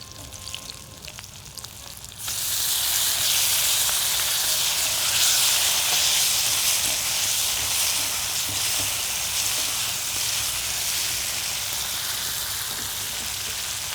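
Chopped tomatoes sizzle loudly in a hot pan, a dense, steady frying hiss that bursts in after a couple of seconds of quieter kitchen sounds and continues throughout.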